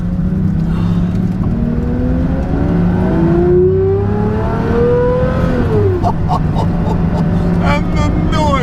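Pagani Zonda engine heard from inside the cabin while driving: a loud, deep engine drone that climbs in pitch as revs rise, drops back on a shift, then keeps running under the cabin noise.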